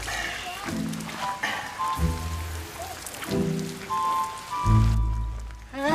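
Steady rain pours outdoors while someone washes a motorbike in it, a constant hiss running under louder tonal sounds and bursts of activity throughout.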